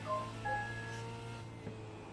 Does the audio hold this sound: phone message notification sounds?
yes